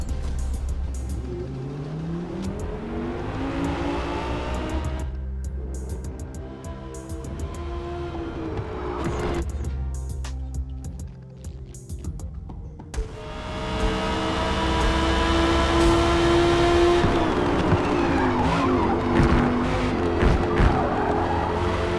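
A Porsche race car at Le Mans in the Forza Motorsport video game, engine revving and shifting through gears, with loud continuous engine drone and tonal whine, a brief dip then surging acceleration, no talking.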